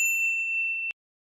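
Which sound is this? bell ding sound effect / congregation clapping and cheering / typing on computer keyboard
bell ding sound effect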